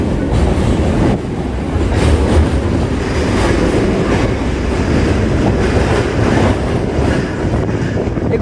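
A train runs on the rails between Sealdah and BBD Bag, giving a loud, steady rumble with a rattling clatter from the carriages. It continues throughout with no one speaking.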